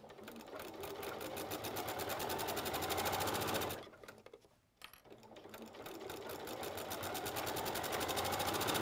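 Sewing machine running steadily while stitching off the end of a quilted bag made from Holland tapestry fabric, loud and continuous with a brief pause midway before the stitching resumes.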